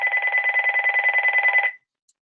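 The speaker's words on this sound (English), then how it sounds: "Someone's calling me." A telephone rings indoors in a steady warbling electronic trill that carries on for about a second and a half, then stops abruptly, with no talking over it.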